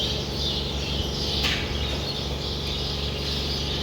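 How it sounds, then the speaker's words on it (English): A flock of birds calls outdoors by the coast, a faint chorus of chirps and squawks over steady wind and ambient noise, with no one talking. "Look at all the birds."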